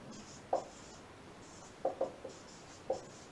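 Chalk or marker strokes on a board during a Sanskrit grammar lesson, a handful of short scratchy taps and squeaks spaced over a few seconds, close and moderately loud against a quiet room.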